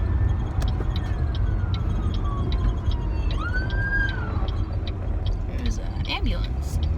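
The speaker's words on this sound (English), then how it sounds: "ambulance." An ambulance siren passes at a distance, its wailing tone sweeping up and down over steady background rumble while a person talks nearby.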